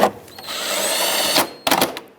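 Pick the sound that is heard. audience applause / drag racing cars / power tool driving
power tool driving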